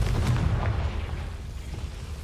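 A Confringo spell explosion in a Hogwarts video game sets off a deep, rumbling blast that hits loud at the start and then rolls away into a fading low boom.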